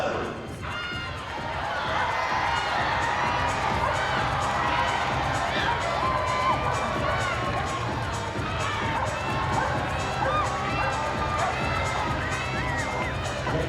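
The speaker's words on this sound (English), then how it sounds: "the louder you cheer, the faster they will run" A large crowd at the Crufts dog show cheers and shouts continuously during a dog display team race, with many children's voices yelling together in a loud, sustained roar.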